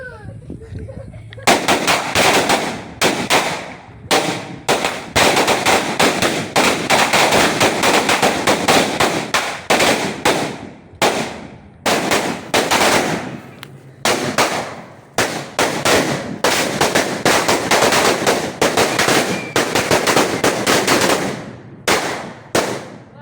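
A rapid barrage of loud firework bursts from a 200-shot Phoenix Fireworks 5S Special cake (2025 version) cracks off in fast bursts with brief pauses, continuing for over twenty seconds close by.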